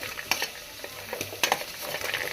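A spoon stirs masala paste into a frying pan in a home kitchen, with light scraping clinks against the pan over a faint, steady sizzle.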